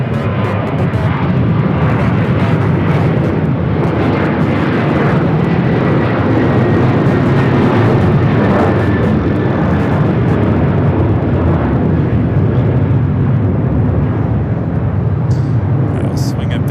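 An Alaska Airlines airliner takes off from runway 6 Right at Los Angeles International Airport, a loud, steady engine roar that holds throughout, with faint radio voices in the background.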